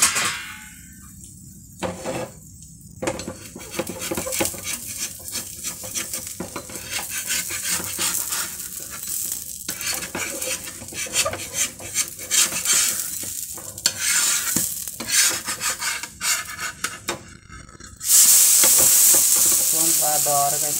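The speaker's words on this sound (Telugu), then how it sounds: "బాగా దోరగా చక్కగా వేగింది." Idli batter attu fries in a pan with a constant sizzle, broken by scraping stir strokes and light utensil clatter, close up, with a louder burst near the end.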